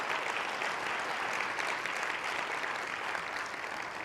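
Steady applause from an audience at a community literacy awareness event in Phoenix, a continuous even patter of many hands heard from some distance, fairly soft and unbroken for the whole stretch.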